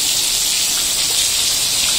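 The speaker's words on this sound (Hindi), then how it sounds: "ये देखिए छत पर से सारी बारिश आ रही है नीचे, इतनी कोई तेज बारिश।" Heavy rain pours steadily off a roof in a downpour, a dense, loud, unbroken hiss of water filling the whole stretch with no voices over it.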